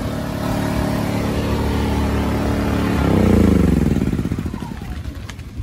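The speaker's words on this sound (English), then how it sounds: "Generator's still running." Generator running steadily in strong wind and rain, a loud continuous engine drone whose pitch shifts and swells partway through before settling, heard close with a voice speaking over it.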